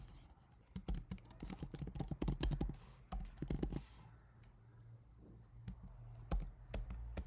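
Keystrokes rattle on a computer keyboard while JavaScript Playwright test code is typed, fast bursts of close clicking that pause midway and resume with scattered taps, no talking.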